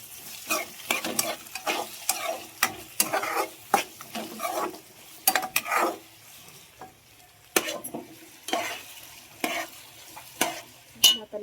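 Tomato being stirred into veg pulao frying in a pan, with quick scraping, clattering strokes from both hands in an uneven rhythm over a light sizzle, close and fairly loud, no talking.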